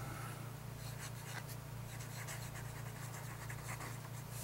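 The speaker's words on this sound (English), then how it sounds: "So let us put nib to paper." Nib of a vintage Belmont fountain pen, a black chased hard-rubber ring-top model sold by Rexall, scratching across paper in soft repeated strokes, close and faint over a low steady hum.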